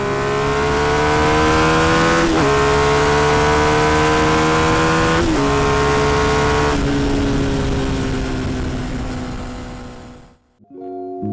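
A Honda XR650L dual-sport motorcycle accelerates hard through several gear changes, its engine note climbing, dropping at each shift and climbing again, loud and close, before the sound cuts off abruptly near the end.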